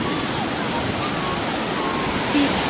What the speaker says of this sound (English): The wind is really loud,